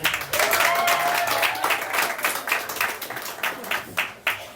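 A comedy sketch show audience breaks into loud applause that tapers off into scattered individual claps toward the end.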